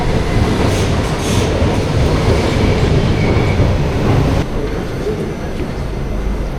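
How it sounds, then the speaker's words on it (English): A train to The Hague rumbles steadily along the rails, heard from inside a carriage, with a constant low roar and faint rattling, no voices. "This train ride to the Hague is very, very quiet."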